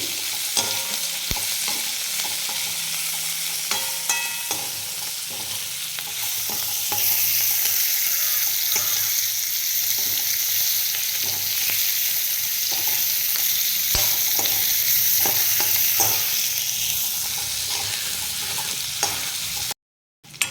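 Capsicum (bell pepper) sautéing in a pan for a Maharashtrian-style sabzi, a steady sizzle with intermittent stirring scrapes and taps, continuing for a long stretch before cutting off abruptly.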